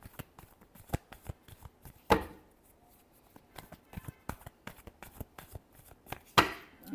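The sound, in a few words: shuffling tarot cards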